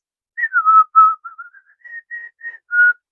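A whistled tune mimics the Dixie melody of the General Lee 1969 Dodge Charger horn, a sequence of about a dozen short clear notes rising and falling over three seconds, close and alone.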